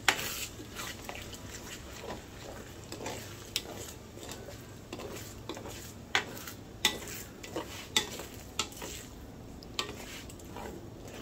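Spaghetti sauce is stirred in a pan with a utensil, giving soft scraping and a faint sizzle, with repeated light clinks of metal against the pan in an uneven rhythm toward the end, close and fairly quiet.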